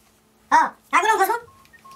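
Telephone keypad dialing tones in a Tajik stage comedy sketch, heard as two brief loud bursts followed by a short run of fainter steady beeps.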